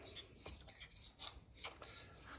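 A barber's razor blade is sharpened with repeated short scraping and rasping strokes in an irregular rhythm, close and fairly quiet.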